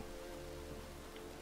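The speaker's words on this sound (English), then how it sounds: "Looks like rain." A faint, even rain hiss from The Witcher 3: Wild Hunt video game fills the short stretch beneath a low steady hum, without distinct drops or talking.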